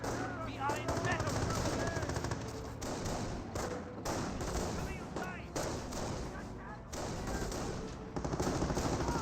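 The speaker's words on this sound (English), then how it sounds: "We're taking fire!" Company of Heroes battle with sustained machine gun bursts and rifle shots, dense rapid rattling fire with thuds and impacts, loud and continuous, with a few brief gaps between volleys.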